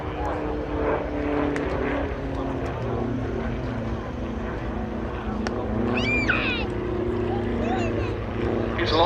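A Twin Star twin-engine propeller aircraft drones steadily at an airshow, a continuous engine hum with a brief squealing, whining sound partway through, while someone talks over it.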